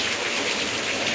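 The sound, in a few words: heavy rain in Hosur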